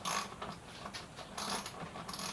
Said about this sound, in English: Most likely your good old 10mm socket on this bike.